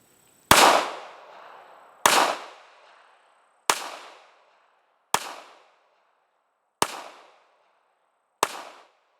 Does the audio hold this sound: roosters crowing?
no